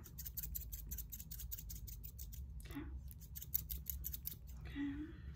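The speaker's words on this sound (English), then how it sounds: "I'm gonna start trimming back" Scissors trimming hair at a barbershop, rapid crisp snips in a steady close series, then a pause and a few more cuts, with faint soft voices in the background.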